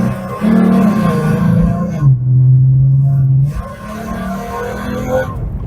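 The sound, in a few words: 2013 Ford Mustang V6 engine during U-turn test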